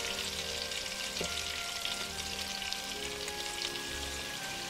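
Homemade meatballs browning in a skillet for one-pot spaghetti, with a steady close sizzle and crackle of frying fat, a faint tonal hum running underneath, and no voices.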